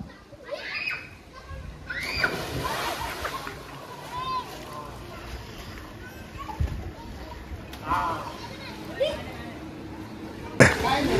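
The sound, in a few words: children splashing in water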